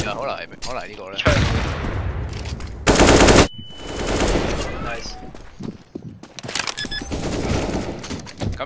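Gunfire from the CS:GO competitive shooter crackles in loud bursts and rapid automatic strings, interleaved with in-game effects and excited players talking over the shots.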